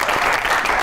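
Audience applause in a studio comedy show, a short dense burst of many hands clapping, loud and close, with no pauses.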